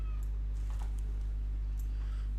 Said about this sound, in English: My cat in the background there.